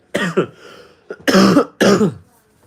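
A person coughs close by in three distinct bursts, two quick ones then a louder pair after a short pause, with no talking.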